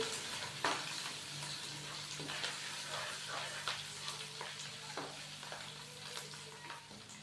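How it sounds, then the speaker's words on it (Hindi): Ginger garlic paste sizzles and fries steadily in a pan, with occasional scraping and stirring clicks from a utensil; no voices. "अच्छे से इसको मिक्स करेंगे और हल्का सा फ्राई करेंगे।"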